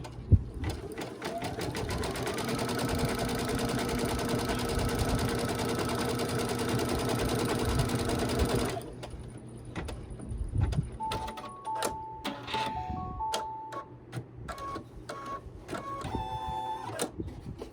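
A domestic embroidery machine stitches a mouse pad. Its needle hums in a loud, steady mechanical whir for about nine seconds, then gives way to quieter intermittent motor whines and clicks as the hoop repositions.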